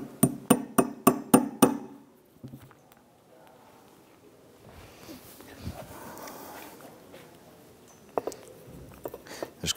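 Bushings are tapped into a 1993-1997 Ford Ranger door hinge: a rapid series of about six sharp, close metallic taps, then quieter handling noises and a couple of isolated knocks near the end.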